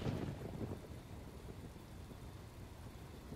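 Rain in the video game Ghost Recon Wildlands falls as a steady broadband wash with low rumbling like distant thunder, a bit louder at the start and continuing evenly without speech.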